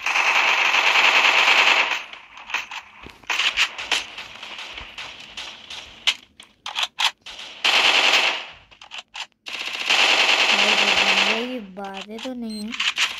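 Rapid shotgun and automatic gunfire in a Free Fire battle royale match, loud repeated bursts in several clusters with short gaps, mixed with game effects and a rising synthetic tone near the end.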